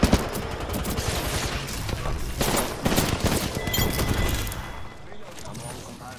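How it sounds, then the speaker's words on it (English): Rapid bursts of video-game gunfire rattle almost nonstop, with sharp cracks and impacts as shots strike a blocking shield, loud and dense before easing off near the end. "Shield is blocking the shots over there."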